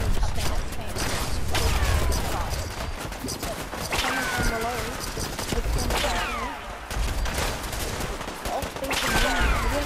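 Bursts of gunfire and ricocheting shots in a Fallout 4 fight against a raider, with clanks, crashes and metallic impacts through a busy, loud mix. A voice talks at times.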